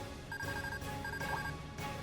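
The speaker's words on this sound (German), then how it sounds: "Telefon. Ich kann grad nicht, wir sind im Krieg." A telephone bell rings in repeated bursts, one short ring after another, heard alone at moderate volume.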